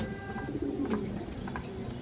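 Racer pigeons, an original black chequer maxi racer pair among a mixed loft, give soft low cooing that hums steadily under a rustling, busy background with a few faint higher chirps; no one speaks.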